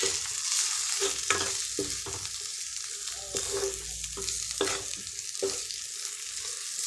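Chili and spice masala sautés in hot oil in a pan, with a continuous loud sizzle broken by repeated scraping stirs. No voices.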